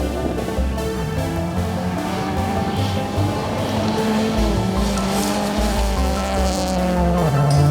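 A Subaru rally car at the Olympus Rally 2018 drives hard toward the finish, engine loud and close with rising and falling revs, gear changes and tire squeal, no talk.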